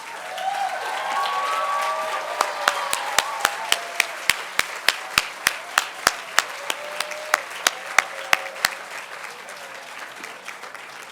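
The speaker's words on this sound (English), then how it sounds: "give them a round of applause" At a university physical therapy white coat ceremony, the audience breaks into a burst of mixed applause with a few voices, which then settles into a string of crisp, evenly spaced single claps that fade out.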